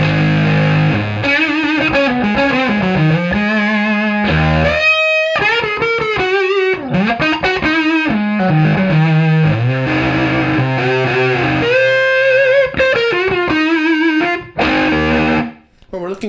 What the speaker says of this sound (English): go use guitar straight into this first 1966 Arbiter England fuzz. It's germanium.